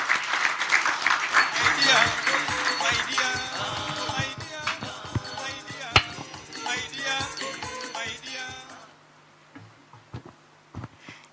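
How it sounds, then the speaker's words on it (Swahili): A crowd at an International Domestic Workers Day event applauds to welcome an ILO speaker: dense, loud clapping that swells for several seconds, mixed with voices, then cuts off abruptly into near-quiet with a few scattered claps. "Makofi"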